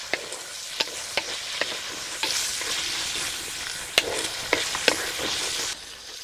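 Raw tomatoes with chillies and curry leaves frying in a pan, a bright steady sizzle broken by sharp, repeated clacks of a spoon stirring against the pan, close and unaccompanied by speech.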